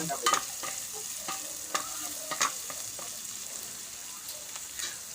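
Chicken is stirred with onion in a hot pan, giving a soft continuous sizzle broken by several sharp scraping and tapping strokes of a spatula, close by and irregular in rhythm.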